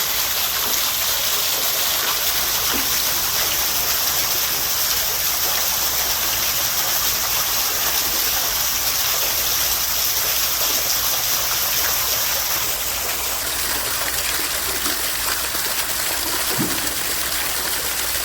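Water rushes steadily and loudly, a constant gushing flow like a stream or small waterfall close by, with no other sounds standing out.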